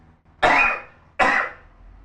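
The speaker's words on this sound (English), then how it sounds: "because I noticed she coughed at the same time." Two sharp, harsh coughs from a woman, close and loud, spaced about a second apart with quiet between them.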